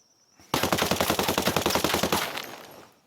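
AK rifle from Ghost Recon Breakpoint firing one sustained full-auto burst of about twenty rapid, evenly spaced loud shots, close up, cutting off after roughly two and a half seconds.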